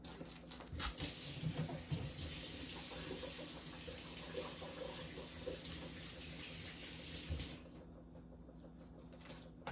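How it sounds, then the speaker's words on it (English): Tap water runs steadily into a sink while hands are washed beneath it, a continuous hissing splash that fades somewhat near the end, with no talk over it. "I'm going to go over here and wash my hands real fast"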